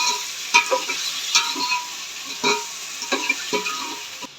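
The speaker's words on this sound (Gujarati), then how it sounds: "હવે નાખી દઈ ડુંગળી. પછી હવે એને ઘડીક ચડવા દેવી." Onions frying in a pan for a village-style paneer curry, a steady close sizzle broken by repeated rhythmic scrapes and knocks of a spoon as they are stirred.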